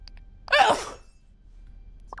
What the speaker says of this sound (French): je fais que éternuer